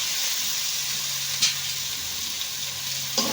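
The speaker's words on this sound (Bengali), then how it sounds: "নিয়ে এবার সিদ্ধ করে রাখা আলু দিয়ে দেব" Boiled potatoes go into a pan of sizzling spice masala for a Bengali egg curry, giving a soft steady frying hiss with a couple of brief stirring clinks.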